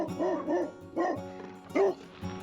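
Dogs bark on the Skye Trail in Scotland, giving three loud, close bursts of barking with short pauses between them.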